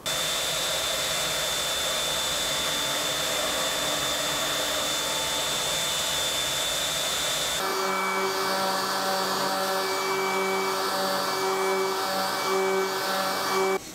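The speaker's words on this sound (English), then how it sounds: "a 1/8 inch round over in my router table, and I'm gonna route the edges on both sides of this" Router table fitted with a 1/8 inch round-over bit running steadily, a loud continuous whine that shifts to a lower, tonal pitch partway through as the bit engages the board edge.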